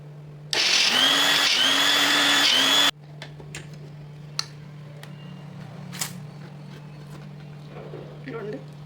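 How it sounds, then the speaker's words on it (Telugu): A kitchen mixer grinder blends boiled tomatoes in a loud, steady whir of about two and a half seconds, then cuts off abruptly, leaving a low hum and faint clicks. "వీటిని ఇప్పుడు ఈ గిన్నెలో వేసి మిక్సీ కొట్టుకోండి."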